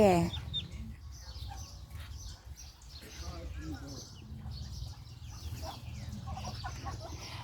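A mother duck and her ducklings call near the nest, with thin, high peeps and short quacking notes scattered over a low hum while a person talks.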